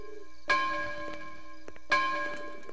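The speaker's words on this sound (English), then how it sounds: "those bells signal it's time to go to confession" Church bells in the video game Hitman 2 ring to call for confession, two loud resonant strikes about a second and a half apart, each leaving a long humming decay.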